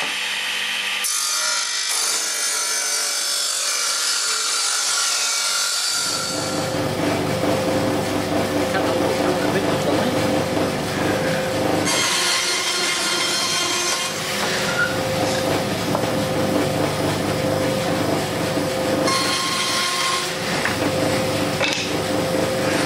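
Hand sawing cuts through 140 by 12 mm (6 by 1/2 inch) boards for a small shelf: repeated rasping strokes, loud and close, come in bursts separated by brief pauses.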